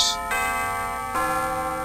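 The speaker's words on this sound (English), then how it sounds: "The bell rings right as you want to do something?" A chiptune-style school bell rings in the Mega Man Battle Network video game, with steady electronic chime tones repeating in two clear strikes.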